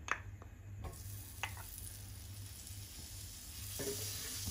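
Two tablespoons of butter melt in a pan over a medium-low flame, giving a soft continuous sizzle with a few faint clinks and stirring sounds and a low steady hum underneath.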